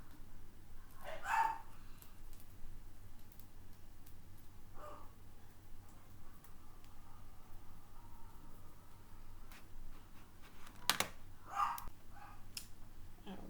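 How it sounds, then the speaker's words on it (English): Dogs bark in a few scattered, short outbursts, fairly distant and muffled, separated by long quiet stretches over a low indoor background. "I had to pause for a second to go quiet down the dogs, but they're just in a mood today"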